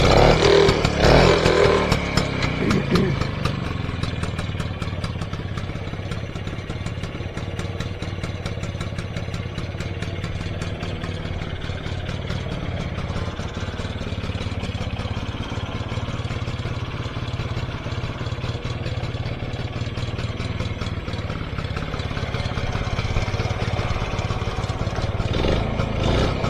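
A 1953 BSA Bantam D1 motorcycle engine fires up with a brief clattering start, then settles into a steady, close, buzzing two-stroke idle that runs on evenly.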